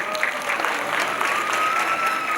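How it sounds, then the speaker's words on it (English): Audience clapping steadily at a pre-primary school annual day as the Junior KG girls come on to dance, dense broadband applause filling the whole stretch with a faint whistle-like tone running underneath. "Round applause for them."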